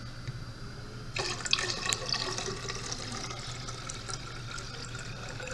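Distilled water pours into a 1,000 ml graduated cylinder, a steady splashing, gurgling stream that starts abruptly and keeps running close by at moderate loudness over a low background hum.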